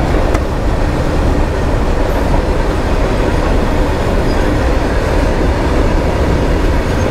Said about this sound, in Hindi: ट्रेन जा रहा है यार, बाप रे इतना रफ्तार से